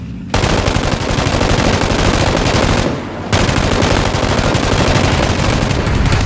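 Sustained automatic gunfire in the PUBG battle-royale game, loud and close, with rapid bursts of shots running almost continuously apart from a brief pause near the middle.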